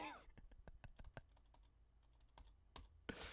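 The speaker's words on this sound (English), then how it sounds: "You can hear my mouse clicking." Computer mouse clicking, a string of sharp, close, dry clicks in an irregular rhythm, some quick pairs and pauses, with a short burst of voice at the start and end.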